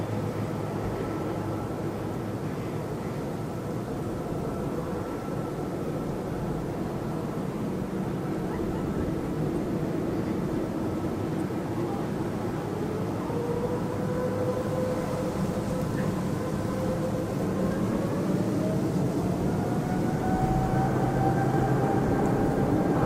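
An EVA Air Boeing 777-300ER takes off from Hong Kong Airport, its engines a steady, broad roar heard from a distance that holds throughout, with a faint rising whine appearing midway.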